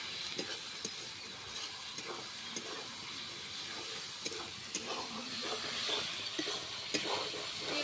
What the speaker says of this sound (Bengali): তিলটা ভালোভাবে কুঁদরি আলুর সঙ্গে মিশিয়ে নিচ্ছি